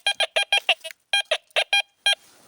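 A metal detector sweeps over ground near old ruins and gives a rapid run of loud, sharp electronic beeps in short bursts, pausing briefly and then resuming, with no talking.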